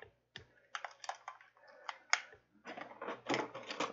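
A computer keyboard clatters with irregular bursts of key presses and clicks, some sharp single taps and some dense runs, close and fairly quiet, with a few handling knocks.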